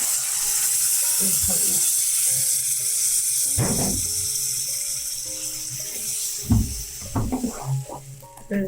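Loud, steady sizzling from a frying pan as blended tomato puree is added, with stirring and clinks and a background tone over it.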